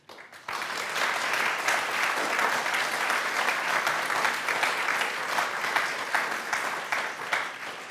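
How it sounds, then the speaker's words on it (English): After a brief quiet start, a debate audience bursts into sustained applause, a thick even clatter of many hands clapping that holds steady to the end with no talking over it. "Wild applause, please, audience."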